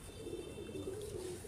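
A pigeon coos softly and steadily, a faint low murmuring call repeated without a break under quiet background hiss.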